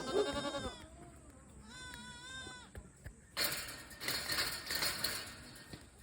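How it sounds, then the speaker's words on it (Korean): A goat bleats twice up close, wavering cries separated by a short pause, followed by louder scuffling and rustling noises. "염소야."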